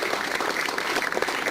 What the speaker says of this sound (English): A round of applause for Philippe